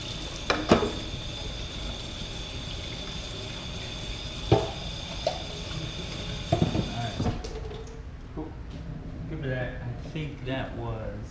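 Running water pours steadily while something is rinsed, with a few clunks and bumps; the flow stops and a voice speaks briefly afterward.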